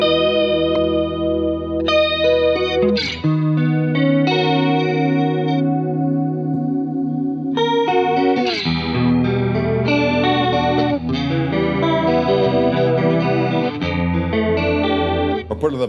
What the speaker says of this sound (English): Another thing I love to do with it is put it on the chorus, but then kind of mess with it so it sounds like it's demented.